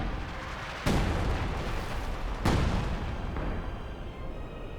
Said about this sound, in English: A lot of artillery getting pelted at the German base